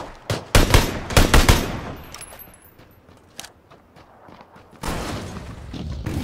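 Gunfire in PUBG: a tight cluster of loud, sharp shots in the first second and a half, then scattered fainter pops and rumble, with another burst of noise near the end.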